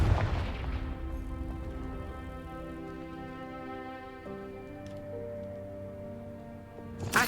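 A Confringo explosion spell goes off in Hogwarts Legacy, with a sharp blast at the start that rings out into a long, fading tonal decay, and a second burst right at the end.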